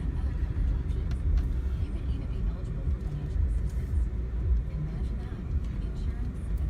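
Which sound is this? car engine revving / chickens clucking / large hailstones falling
car engine revving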